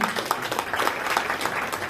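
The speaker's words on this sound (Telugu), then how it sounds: "చప్పట్లు కొడదాం" An audience applauds at a Bible quiz event, a short burst of steady clapping from a small crowd throughout.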